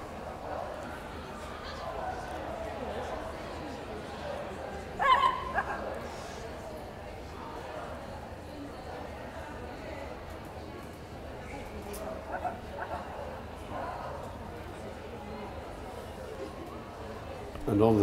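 Small toy-group dogs at an outdoor championship dog show give a few light yips and barks, briefly and not close, under a commentator's steady talk and general crowd murmur.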